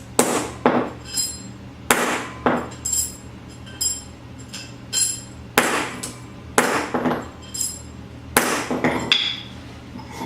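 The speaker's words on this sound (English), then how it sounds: "I like that hammer. You don't have to hit it too hard." A hammer strikes metal during work on a Daisy B52 slingbow conversion, delivering a dozen or so sharp, ringing blows close by, often in quick pairs with short pauses between, and nobody speaking.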